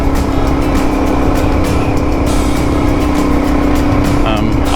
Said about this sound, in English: So this bike is a 2007 Suzuki DRZ 400.